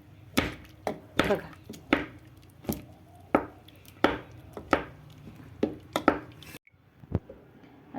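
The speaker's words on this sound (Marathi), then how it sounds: "आता आपण यांना मॅश करूया" Boiled potatoes for pav bhaji are mashed in a pot, heard as a series of about a dozen sharp, close thumps at an uneven rhythm with quiet gaps between them, and one short word spoken.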